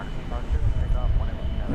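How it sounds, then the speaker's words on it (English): A passenger jet, Flight 80 bound for London Heathrow, rumbles during its takeoff roll from runway 17 right at DFW Airport, a steady low roar heard from some distance. "Flight 80 to London Heathrow is about ready to lift off from 17 left."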